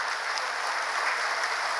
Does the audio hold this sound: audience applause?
yes